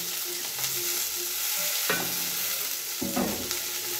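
Capsicum, cabbage and tomato sizzle and fry in a pan and are stirred with a few distinct scraping strokes over a constant hiss, close up and with no voices.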